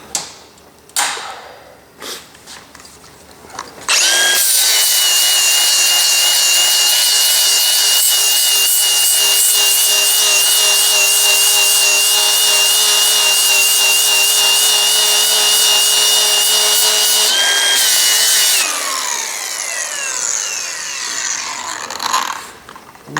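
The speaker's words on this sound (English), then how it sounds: "Once again, I'm gonna grind it." Grinder worked against a laser-welded brass piece, a loud steady whine with harsh abrasive hiss running about fifteen seconds after a few scattered knocks and handling sounds, then tapering off with the tool spinning down.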